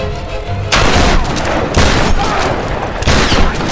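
Three loud shotgun blasts from Tomb Raider (Game of the Year Edition) gameplay, each a sharp broadband boom at roughly one-second intervals with reverberant tails, after a quieter opening.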